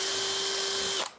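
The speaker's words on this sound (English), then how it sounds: "I'm just going to drill a little bit" A power drill drilling into wood whines at a steady high pitch for about a second, then cuts off and winds down.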